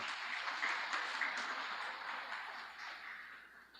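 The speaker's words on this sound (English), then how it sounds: "Could you give them a round of applause, please?" Faint, distant applause from a crowd at a national exam results announcement ceremony for top achievers, a soft, even wash of clapping that slowly fades.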